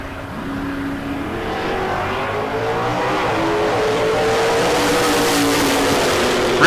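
Drag racing cars, a Mustang among them, launching down the strip at a bracket race, a loud engine roar building and sustaining with a rising tone, faint tire noise beneath.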